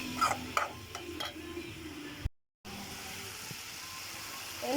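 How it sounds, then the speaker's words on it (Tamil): Onion and tomato sautéing in a pan for a chickpea curry, with a soft stirring scrape and low sizzle that drops out briefly midway before resuming, fairly faint throughout. "நல்ல ப்ரௌன் கலர் ஆகுது வரைக்கும் நல்லா வதக்கணும்."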